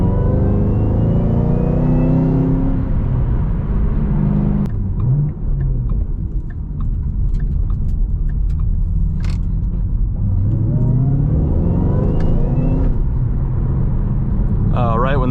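A 2014 SVT Shelby GT500 on Cup 2 tires, suspension set to stiff, is driven hard on a winding road, its loud engine rumbling and revving through gear changes with an interior perspective, while people talk over it throughout.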